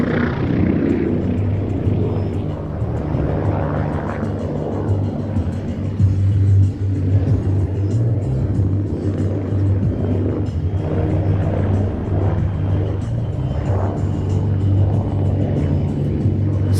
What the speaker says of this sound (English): let's get back to the sound of this brilliant helicopter